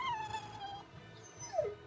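Dogs in the video game Tales of Berseria give two faint, high, sliding whimpering whines, one long and one short, with nothing else over them.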